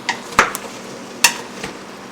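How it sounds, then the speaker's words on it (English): Sweet potatoes and carrots get a quick stir in a pan, heard as a few short, close scraping strokes spaced over a couple of seconds against a quiet background. "I'm going to give my sweet potatoes and carrots a quick stir."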